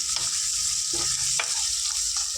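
Small bombil fish fry in a pan with a steady, loud, close sizzle and a few faint stirring scrapes, with no voices.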